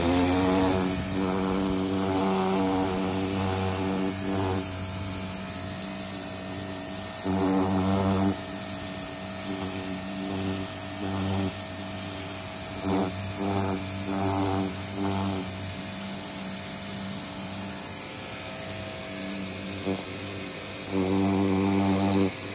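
A power washer runs continuously nearby, giving a loud, steady mechanical drone with a constant hiss and a pulsing motor hum that barely changes throughout.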